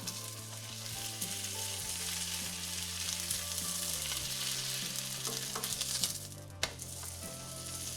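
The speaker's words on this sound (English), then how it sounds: "While you're frying your tortillas" Tortilla sizzling steadily in hot oil, a continuous crackling fry with a few soft clinks of a utensil and one sharp tap near the end.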